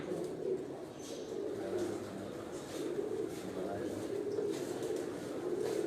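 Kot Commander pigeons on a rooftop in Sialkot, low continuous cooing and rumbling calls from several birds nearby, with someone talking over them.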